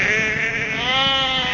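Sheep in the alpine grasslands of New Zealand give a single loud, wavering bleat, close and clear, lasting the whole moment.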